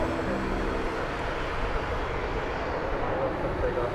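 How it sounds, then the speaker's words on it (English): Boeing Dreamliner arriving at DFW Airport, a low, steady jet engine rumble in the background while someone talks over it. "Here comes that Dreamliner that came in from San Antonio."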